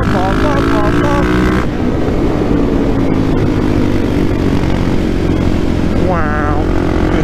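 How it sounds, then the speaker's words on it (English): Supermoto motorcycles race on a Rochester track, their engines droning loudly with rising and falling revving sweeps as bikes pass, and a voice comes through now and then. "Supermoto Sunday number 2 underway."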